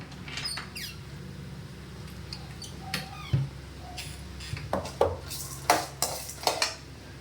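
Cashew nuts fry in a pan while a spoon stirs them, giving sharp metallic clinks and scrapes that grow into a quick run of knocks toward the end, over a faint sizzle with no talking.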